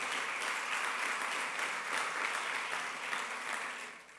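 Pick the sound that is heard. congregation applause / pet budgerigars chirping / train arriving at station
congregation applause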